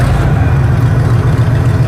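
An old wrecker tow truck's engine is cranked and starts, a loud, close, rough low rumble that holds steady without talk.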